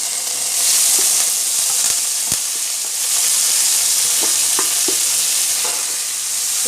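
Onion, ginger, chilli and curry leaves sauté in a pan with a constant close sizzle and occasional light clacks of a spoon as they are stirred; no voices.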